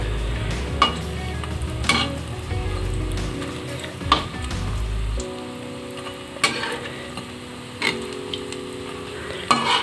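Turned fish balls frying in hot oil in a kerahi keep up a soft, steady sizzle, broken by several sharp ticks and scrapes of a utensil against the pan, close by, with no talking.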